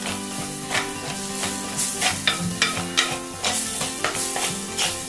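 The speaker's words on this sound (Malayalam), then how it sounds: "നല്ലപോലെ വഴറ്റി കൊടുക്കുക. മീഡിയം ഫ്ലെയിമിൽ തന്നെ വേണം വഴറ്റാന്." Steady sizzling of spice powders sautéing over medium flame in a pan for a spicy red fish curry, with repeated scraping strokes of a spoon stirring, a fairly close, rhythmic frying sound without talk.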